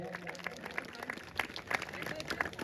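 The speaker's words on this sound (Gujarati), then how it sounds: "તાળીઓના ગડગડાટ સાથે આપણે દાતાશ્રીને વધાવીએ" Audience at a family gathering applauding a donor, a dense patter of hand claps, fairly faint and distant.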